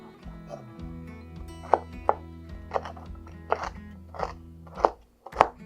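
Sharp kitchen knife chopping celery stalks on a board for a 1969-style chicken stuffed green peppers recipe, an irregular series of crisp, close cuts with small gaps between them.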